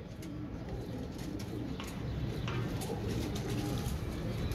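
Royal Teddy pigeons cooing softly at a loft, with low, steady coos over dense background noise.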